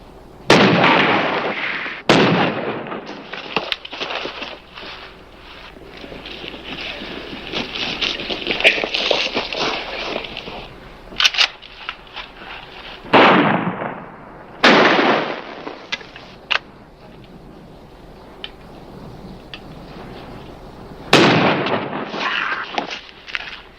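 Shotgun blasts ring out in a western film gunfight, several loud sharp booms spaced over the scene, each trailing into an echo, with a rough continuous layer of scuffling and action sound between them.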